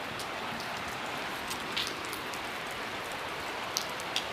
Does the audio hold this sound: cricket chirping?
no